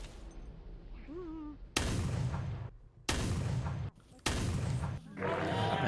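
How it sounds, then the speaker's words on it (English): A grenade goes off in a video game as three loud, heavy blasts, each a broadband burst lasting about a second, separated by short lulls. A faint voice is briefly heard before them. "I believe that was them throwing the grenade, by the way."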